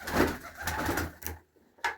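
Pigeons coo in a loft on a freezing winter day, soft throaty calls close by that fade briefly before one more coo.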